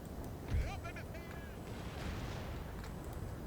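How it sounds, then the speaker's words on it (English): Booming cannon shots in the video game Napoleon: Total War crackle through a dense game soundscape, with bursts of gunfire and whistling effects layered over a steady rumble. "Looks like our guns are opening fire."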